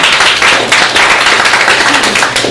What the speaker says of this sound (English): I think that's worth applauding.